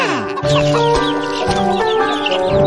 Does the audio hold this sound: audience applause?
no